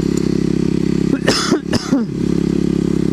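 A motorcycle engine rumbles steadily while riding over loose, sketchy gravel, with a short burst of clattering, crunching and a cough-like noise in the middle before the steady drone resumes.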